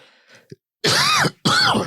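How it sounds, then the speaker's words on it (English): A person recovering from a cold makes a soft throat sound, then two loud, rough coughs in quick succession, close up and harsh. "I'm still recovering from this cold, so I'm trying to do my best to not cough."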